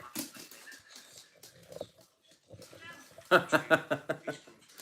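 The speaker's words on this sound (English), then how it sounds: "Trying to get the dogs away because they're an absolute nightmare." Dogs bark in a short run of sharp, loud yelps near the end, following a stretch of people talking indoors during a live lockdown quiz.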